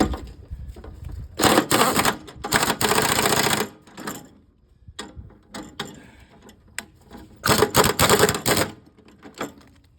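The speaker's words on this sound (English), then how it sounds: "Mine is super tough, so I had to get an impact gun." An impact gun hammers at spindle bolts on a riding lawnmower cutting deck, rattling in loud bursts of rapid clatter broken by pauses, with a few lighter mechanical clicks between them.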